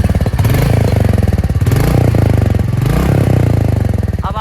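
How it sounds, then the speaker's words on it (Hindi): Customized Royal Enfield Meteor 350 motorcycle idling close up in a sound test, a loud, steady low thumping exhaust beat with even rhythm and a brief mechanical clatter near the end. "तो अब आप इसकी थंब खुद सुन पा रहे होंगे,"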